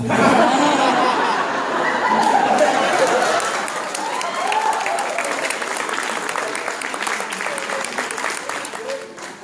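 Sustained applause from an audience at a stand-up comedy show, dense clapping mixed with chuckles and laughter, loud at the start and gradually thinning out over several seconds.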